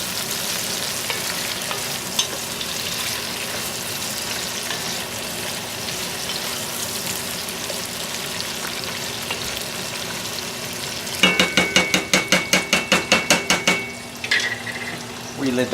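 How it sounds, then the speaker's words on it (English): Pasta and vegetables are stirred in a pot while making pasta primavera: a steady background hiss, then near the end a quick run of about ten rhythmic scraping strokes close by, with a short pause after. "Give it a stir."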